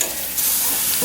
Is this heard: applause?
no